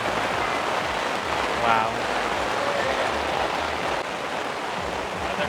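Heavy rain pours onto a vendor's tent at an outdoor Pride market, a dense, unbroken hiss and patter that fills the whole stretch, with a single short exclamation from a voice underneath.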